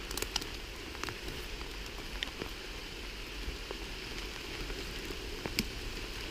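Steady rain patters continuously on leaves and ground in a forest, with occasional louder drips, no voices.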